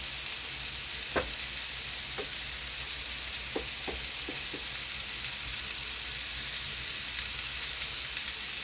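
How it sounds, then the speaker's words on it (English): Tomato sauce is stirred into spaghetti in a pot, giving a soft, even simmering hiss under a few scattered light knocks of the spoon, fairly quiet and with nobody speaking. "I already added my tomato sauce in the spaghetti. Stirring that in."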